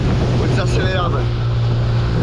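A mini motorboat's engine revving up on the water, a steady low engine hum with a brief rising whine and sloshing wake noise over wind buffeting the microphone.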